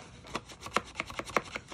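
A bone folder presses and creases scored paper flaps on a papercraft treat box, making a series of short, crisp rubbing taps close up at an uneven rhythm.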